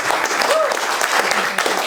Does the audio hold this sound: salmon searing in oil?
no